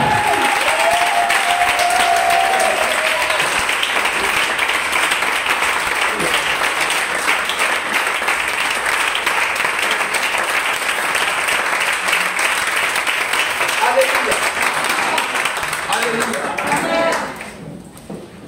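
A church congregation applauding in praise of the Lord, dense sustained clapping from a large crowd filling the room for most of the stretch before quickly dying away at the end.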